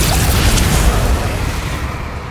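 Booming spell explosions from the Hogwarts Legacy video game, a loud dense burst of blasts and rumble that fills the clip and slowly tails off.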